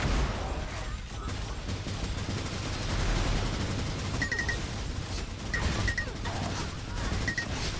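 In the Unreal Tournament 4 video game, a minigun fires in dense rapid bursts amid chaotic match gunfire and explosions, with short electronic beeps over it.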